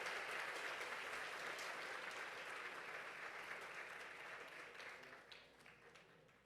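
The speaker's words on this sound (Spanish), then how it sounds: "Por favor, que se sienta fuerte el aplauso desde Cartagena para nuestra conferencista" An audience at a peace conference in Cartagena applauds the invited speaker. The clapping is dense and sustained at a moderate distance, then thins and fades toward the end.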